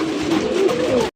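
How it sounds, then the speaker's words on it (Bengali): A Kakji pigeon at a pigeon farm gives a soft, close cooing call, a single short rolling coo heard alone. "এই কাকজি কবুতর পাওয়া যাইতেছেন"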